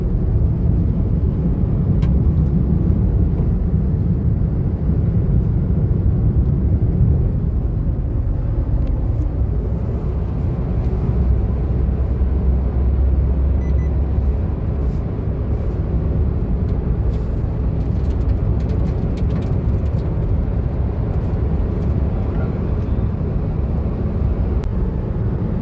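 A car cruises along the Purvanchal Expressway with a steady, loud low road rumble and wind noise from inside the cabin, continuous throughout with no talking.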